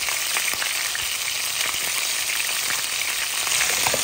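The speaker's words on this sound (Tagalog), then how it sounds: "Isusunod ko na po ang ating bawang, sibuyas at ang ating luya." Garlic, onion and ginger frying in a pan with chicken, a dense, steady sizzle with faint crackles and pops throughout, close and without talk.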